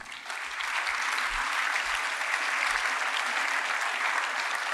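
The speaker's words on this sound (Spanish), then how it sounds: "denle un aplauso al Rey" Church congregation applauding during a Spanish-language sermon, a full, sustained burst of many people clapping that rises quickly and holds steady, with some low thumps at the start.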